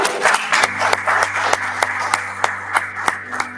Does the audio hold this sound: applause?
yes